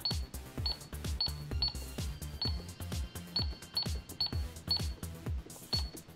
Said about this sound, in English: if you turn on your cash register, you can press these buttons to hear the menu selection